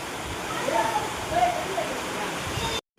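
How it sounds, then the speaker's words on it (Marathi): Heavy rain driven by strong wind during a village storm, a steady dense roar of falling water and gusts that holds evenly for nearly three seconds before cutting off abruptly. "तेवढा पाऊस बघा"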